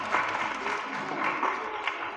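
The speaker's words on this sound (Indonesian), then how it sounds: "Berikan tepuk tangan untuk anak-anak kita" Audience applause for schoolchildren at a Quran completion and examination ceremony at an Islamic elementary school, steady dense clapping throughout, moderately near and even in loudness, with no talk over it.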